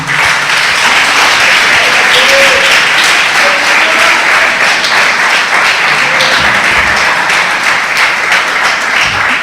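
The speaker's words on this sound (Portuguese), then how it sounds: "Pode dar um aplauso ao Senhor." A church congregation claps and cheers in sustained, loud applause, a dense wash of hands filling the whole stretch with no pause, during a worship service.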